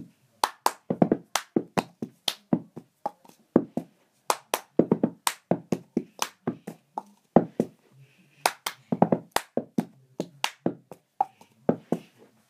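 Cup song rhythm played by hand, sharp claps mixed with hollow cup taps and slides in a quick repeating pattern, close and clear for the whole stretch with no voices.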